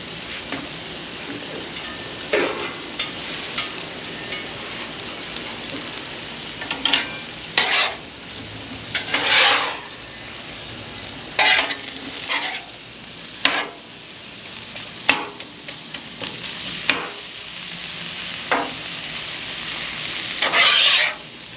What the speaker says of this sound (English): Go ahead and get some onions in there. That's 1 chopped onion.